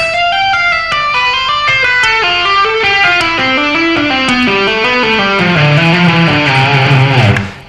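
Distorted electric rock guitar running a fast scale pattern with hammer-ons and pull-offs, notes stepping steadily downward in a smooth legato stream, loud and alone.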